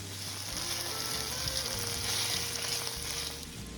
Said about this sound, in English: Next to our sauteed onions, we're going to add a can of Romano beans that I've just rinsed.